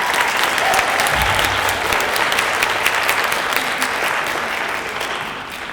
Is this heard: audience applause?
yes